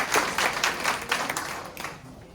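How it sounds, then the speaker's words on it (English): An audience at a lecture on the Arab-Israeli conflict gives a brief round of applause, a moderate patter of clapping hands in the room that fades out within a couple of seconds. "let's give him a round of applause"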